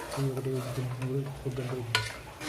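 Mutton is stirred in a pan with chili powder and mutton masala for Telangana-style gongura mutton, giving a steady scraping stir over a low sizzle, with a brief clatter near the end.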